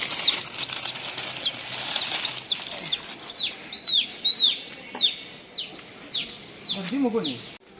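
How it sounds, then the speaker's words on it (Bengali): A hen clucks in a rapid string of repeated high-pitched calls, fairly close, with a brief flutter of wings near the end. "ইসমাইল এখন মুরগির মাকে খুঁজছে"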